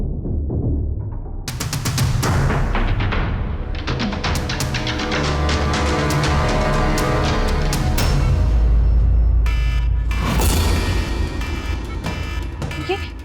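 An alarm rings loud and near, a steady repeating electronic tone that runs through the whole stretch, mixed with heavy scene noise and shouting voices in a tense hospital drama.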